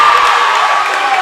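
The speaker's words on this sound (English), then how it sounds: "definitely gets the crowd going here at Eagle High School gym with that layup" A high school basketball crowd in a gym cheering after a layup, a dense and loud roar of voices that holds steady for about a second.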